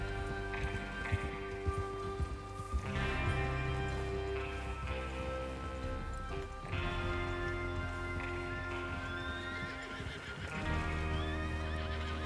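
Horses in the video game Red Dead Redemption 2 whinny loudly in several long neighs while hooves clip-clop underneath, over a steady tonal background hum.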